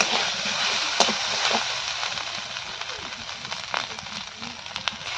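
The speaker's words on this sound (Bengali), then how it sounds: "আদা রসুন বাটা ভালো করে ভেজে নিয়েছি" Ginger garlic paste fries in a hot pan, giving a steady close sizzle with scattered crackles and pops and occasional stirring.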